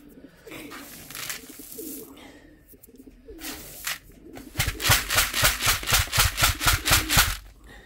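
Pigeons coo in soft bursts early on, then a louder, rapid rhythmic run of cooing pulses repeats close by, with no talking.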